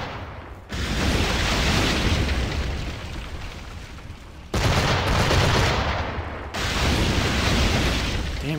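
Ship cannons boom in Assassin's Creed IV: Black Flag, each heavy broadside a dense burst of noise with sharp onsets near 0.7, 4.5 and 6.5 seconds and rumbling sustain between, loud and close with no talk.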